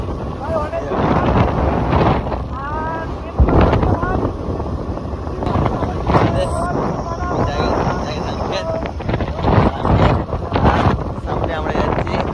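Heavy wind buffets the microphone while riding a motorbike along a rural road, a loud, gusty roar running throughout, with people talking over it at intervals.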